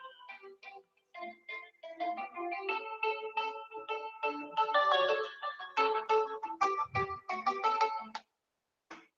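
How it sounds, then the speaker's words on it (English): Mobile phone ringtone for an incoming call, a bright electronic melody of quick repeated tones that rings alone for several seconds, fairly clear and close, before stopping abruptly. "One phone call has come."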